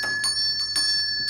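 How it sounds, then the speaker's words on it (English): A bell rings repeatedly in quick succession, bright sustained tones with sharp strikes every few tenths of a second. "who's ringing the bell?"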